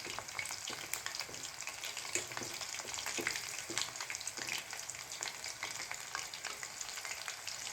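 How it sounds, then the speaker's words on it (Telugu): Chicken pakodi deep-fries in hot oil over a medium flame while the pieces are turned, giving a soft, continuous sizzle with scattered crackles and light stirring clicks close by. "స్టవ్ని మీడియం ఫ్లేమ్లో పెట్టుకొని ఇలా తిప్పుకుంటూ 2 వైపులా కాల్చుకోవాలి."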